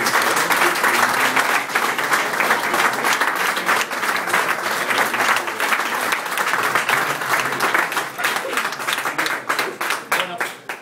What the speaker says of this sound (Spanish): ¿no? Tanto aplauso.